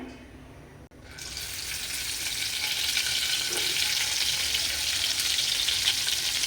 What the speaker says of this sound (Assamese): এতিয়া মই এটা এটাকৈ ইয়াত তেলত ভাজি যাম।